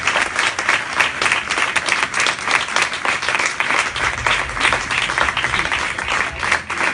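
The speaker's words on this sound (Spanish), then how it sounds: "vamos a agradecérselo con un fuerte aplauso" Close, loud audience applause with individual claps distinct within a lively, sustained round, steady throughout with a low rumble in the room.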